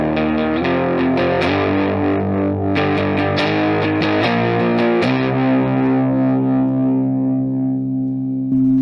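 Heavily distorted electric guitar through a Behringer Heavy Metal HM300 pedal playing sustained chords with a gritty, saturated tone, loud and continuous, ringing out toward the end.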